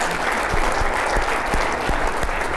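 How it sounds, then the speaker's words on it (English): Audience applause at a live talk event honoring the Reno mayor, a dense steady wash of clapping with a few sharper individual claps standing out, filling the room without voices over it. "I think that we should give a round of applause to your sister and my brother"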